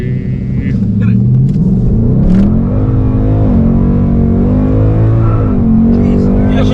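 Ford Mustang 5.0 with a 10-speed automatic, power-braked and then launched hard, its engine roaring loud and close in a rising rumble throughout, with people talking over it.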